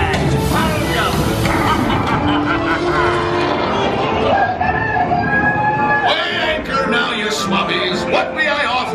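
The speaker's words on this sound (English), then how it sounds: "What may I offer for these hearty hens? Everyone an egg layer." Hens and a rooster at a Disney World attraction, a rooster crow and clucking mixed into a loud, busy scene with music, voices and other park noise throughout.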